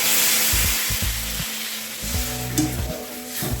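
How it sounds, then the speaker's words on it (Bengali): Steady, loud sizzle and hiss as water goes into a hot pan of spiced soybean curry, frying noise rising and settling with a few soft stirring knocks, with no voices. "এখন আমি দিয়ে দেবো পরিমাণ মতো জল।"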